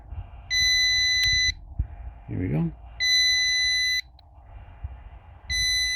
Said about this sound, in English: I don't know how to get rid of the beep